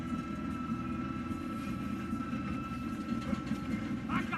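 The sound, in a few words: train rolling along the tracks in Red Dead Redemption 2 video game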